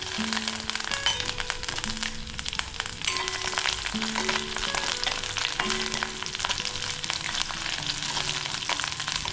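Green chillies, garlic and ginger fry in about two spoons of oil in a pan, giving a steady, close crackling sizzle that runs unbroken, with no voices over it.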